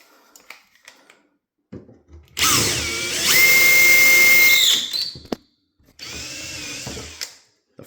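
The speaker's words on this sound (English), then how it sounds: "Let's try to drill on there." A power drill bores into a door handle jig in two close, loud bursts, a longer whir that climbs in pitch followed by a shorter one after a brief pause.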